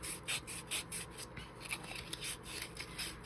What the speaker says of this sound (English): just sand it down like so to smooth out